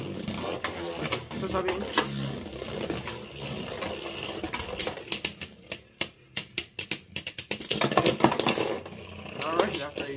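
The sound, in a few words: Beyblade spinning tops launched and clashing in a battle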